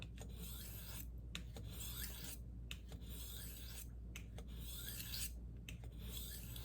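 A steel blade rasps steadily back and forth across a hard Arkansas whetstone in a regular rhythm of strokes, quiet and close.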